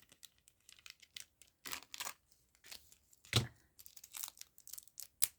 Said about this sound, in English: cutting the tape's not the most fun thing to do